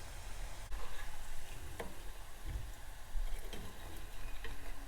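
Masala-coated peanuts frying in a pan, a quiet steady sizzle with faint scattered ticks and stirring clinks, no voices.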